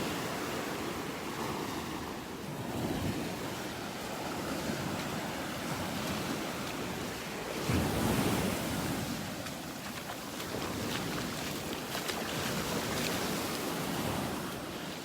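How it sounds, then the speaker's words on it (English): Ocean surf pounding the shore on a beach in North Naples, Florida, a steady roar of breaking waves with swells and a heavier crash midway, wind rumbling across the microphone throughout, no voices. "Still some pretty good waves pounding the shore here, but nothing like yesterday."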